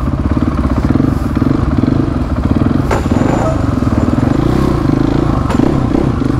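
A motorcycle engine revs loudly and continuously while the bike is ridden in a wheelie on a rough trail, with its rumble holding steady throughout and occasional clatter from the chassis mixed in.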